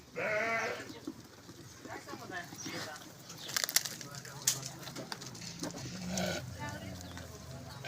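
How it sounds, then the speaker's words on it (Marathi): Sheep bleat several times from close by in a pen during summer stall-feeding, with people talking over the calls and some shuffling and knocks in the background. "या मोठ्या मेंढ्या आहेत"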